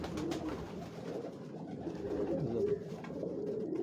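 Prince pigeons on a Lahore rooftop keep up a continuous, close, low cooing drone, many birds overlapping, with a slight swell near the end.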